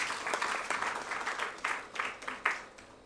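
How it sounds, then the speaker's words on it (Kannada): An audience at a live Kannada comedy show bursts into sustained applause, a dense wash of many hands clapping, fairly close and steady for a few seconds. "ಖಂಡಿತ ಚಪ್ಪಾಳೆ ಹೊಡಿಬೋದು"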